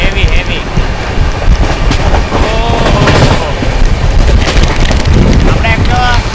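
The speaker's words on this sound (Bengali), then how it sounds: "দেখো আরাবলি এক্সপ্রেসে ভাই মারাত্মক স্পিডে ওভারটেক করছে মালগাড়িকে। আর একটু সাথে কিন্তু ট্র্যাক সাউন্ডটা হেভি হেভি।" The Aravalli Express on the Ringas to Ajmer line overtakes a goods train at high speed, giving a loud, continuous roar and heavy rumble of wheels on track with wind buffeting close to the microphone and occasional metallic squeals.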